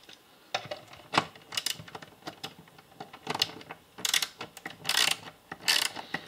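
A ratchet turns a tri-wing bit on the screws of a Tronic TLG 500 B1 battery charger, giving close, irregular bursts of sharp metallic clicking with short pauses between them.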